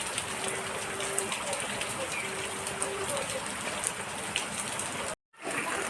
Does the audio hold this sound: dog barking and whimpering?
no